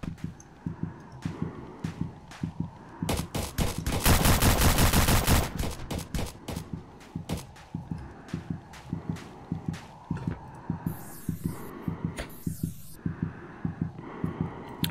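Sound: shotgun fire in Roblox video game Task Force 2

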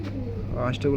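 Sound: pigeons cooing at pigeon sale

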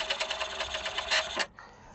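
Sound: HP Envy 6120e printer printing a two-sided page

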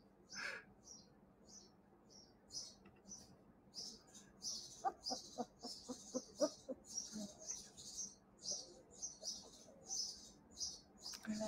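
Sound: birds chirping

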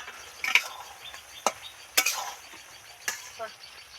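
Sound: snake gourd and poppy seed curry bubbling as it boils

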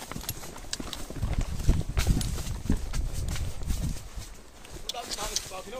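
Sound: horse walking, hooves clip-clopping

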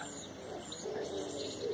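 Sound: pigeons cooing in a bush

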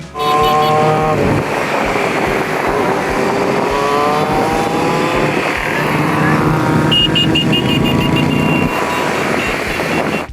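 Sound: motorcycle engines roaring

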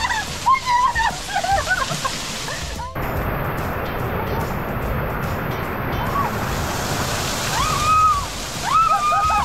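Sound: Dragon Palace waterfall splashing

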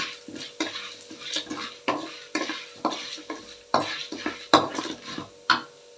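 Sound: cumin seeds added to hot oil, sizzling while stirred

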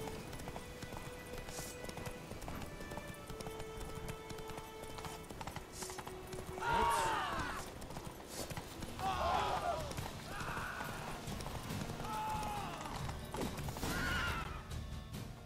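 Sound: horse galloping in video game Witcher 3

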